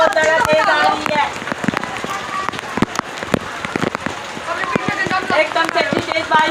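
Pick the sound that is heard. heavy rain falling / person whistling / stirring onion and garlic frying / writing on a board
heavy rain falling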